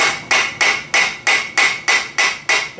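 A hammer taps a wheel bearing into the front hub of a 2WD Ford Ranger: nine sharp, evenly spaced metallic strikes about three per second, close and loud with no talk.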